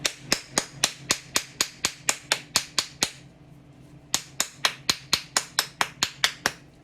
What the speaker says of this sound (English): So if you want to give a couple of extra really good whacks to try to loosen up all that around your details